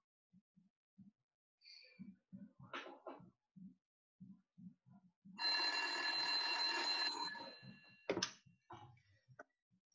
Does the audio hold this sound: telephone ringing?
yes